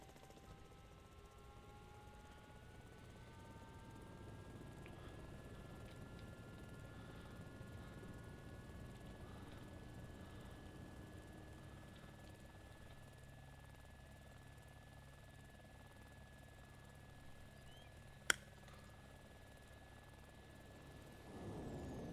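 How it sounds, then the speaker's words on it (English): Helicopter rotor and turbine drone in Arma 2 as a chopper takes off, a steady broad whir with a rising whine that builds and holds, with a sharp click near the end. "Is that you taking off in a chopper?"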